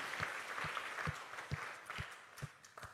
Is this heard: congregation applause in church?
yes